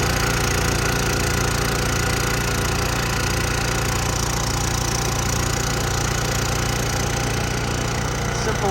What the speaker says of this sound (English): And then we're going to turn the sander on.